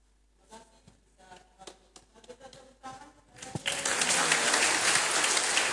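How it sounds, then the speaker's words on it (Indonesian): A church congregation at a Sunday service bursts into applause after a spoken lead-in, the clapping rising to a dense, sustained roar that fills the room. "Tepuk tangan untuk Tuhan"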